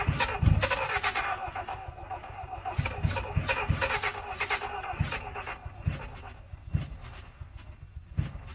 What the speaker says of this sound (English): start the car and give it a try